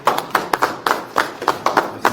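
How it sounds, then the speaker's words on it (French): A small audience claps for a parish priest at a family dialogue gathering, with sparse, uneven individual claps close by and a thin, brief round. "si nous pouvons juste l'applaudir"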